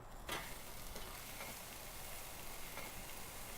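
A T-bone steak sizzling on an outdoor cooktop beside an RV, giving a steady, soft frying hiss with faint crackles throughout.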